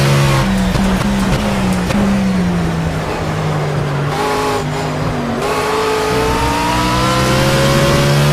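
A race car engine screams at full throttle through a fast, flat-out right-hander in Project CARS, loud and close, its pitch climbing and shifting with gear changes over steady road and tire noise.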